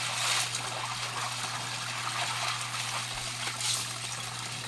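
Strong running water pours steadily from a shower, a continuous dense hiss and splash that stays even throughout, with a faint low hum underneath.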